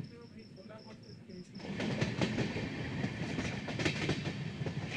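The Sealdah–Jalpaiguri Road Humsafar Express rolls along the rails near Krishnanagar, with a loud, close rumble and rhythmic clickety-clack of wheels over joints, preceded by a few high tonal beeps.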